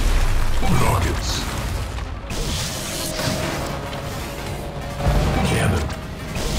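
Rockets fired in the futuristic racing game WipEout HD/Fury, several punchy booms and bursts spaced across the run over a constant racing-engine drone, with a synthetic announcer voice heard.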